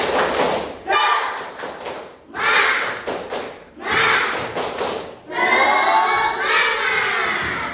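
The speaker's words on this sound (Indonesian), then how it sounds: "Kita tepuk semangat dulu karena udah pada lesu." A classroom of students performs a rhythmic group spirit clap, loud bursts of clapping and thumping in patterned sections with children's voices shouting along between the beats.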